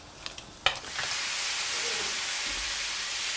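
Lamb mince fries in fat in a pan for samosas: a few clinks and a sharp knock at the start, then a steady, close, hissing sizzle.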